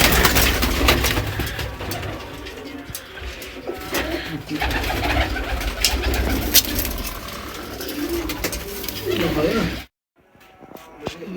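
Soft, repeated cooing of large pigeons and their chicks close by, layered with people talking, before a sudden drop to near silence at the end.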